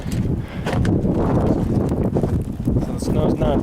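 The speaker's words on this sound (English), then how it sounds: "This wind is like 70 miles an hour. And it hurts when it hits you." Roaring blizzard wind of about 70 miles an hour during a bomb cyclone, loud continuous buffeting noise filling the whole stretch, thick and unbroken.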